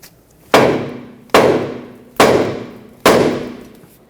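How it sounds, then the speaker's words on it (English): A hammer strikes the end of a steering knuckle on a 2006-2010 Hyundai Sonata to free a ball joint stud: four loud, close metallic blows, evenly spaced and ringing briefly after each. "Hammer right on the end of the knuckle right here."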